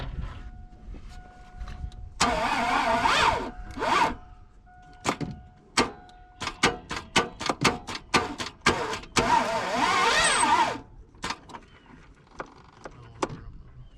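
Starter cranking a truck engine, heard as bursts of whirring crank followed by a string of sharp, rapid stuttering catches, up close and loud with pauses between attempts.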